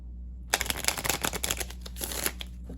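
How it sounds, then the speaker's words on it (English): Tarot reading cards being shuffled by hand, a dense run of quick papery riffles and slaps that starts after a short pause and continues close and steady with no voice. "We'll get 3 shuffles and then see what wants to pop out."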